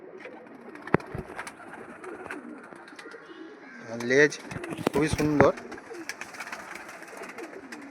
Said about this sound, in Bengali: একদম পরিষ্কার পরিচ্ছন্ন পায়রা দেখুন